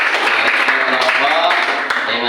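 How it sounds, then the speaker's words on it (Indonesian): Classroom applause for a student group at a vocational high school, a dense continuous patter of many hands clapping at moderate loudness throughout, with some voices mixed in. "Silakan tepuk tangan untuk semua"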